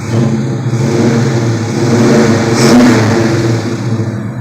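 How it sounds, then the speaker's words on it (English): A 1971 Dodge Dart Swinger's 318 V8 engine revs steadily and loudly, its deep rumble swelling to a peak near the end before easing slightly. "We're going to rev it up a bit."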